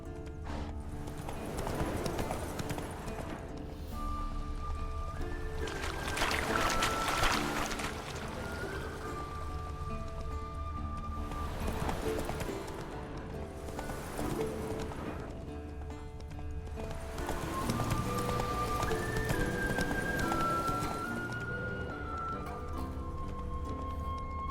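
Roach, a horse in The Witcher 3 video game, clip-clops along at a steady run, hoofbeats loud and continuous over a layer of game music with sustained tones throughout.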